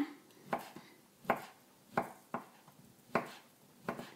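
A knife chops through food on a cutting board in steady, evenly spaced strokes, six crisp taps at close range with quiet between.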